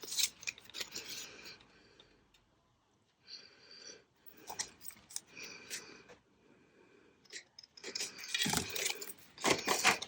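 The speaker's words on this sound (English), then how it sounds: "Okay, then we are going to cut our tag shape." Scissors snip around a paper tag shape during a woodland journal topper craft, giving several bursts of crisp close cutting separated by short pauses, with no talk.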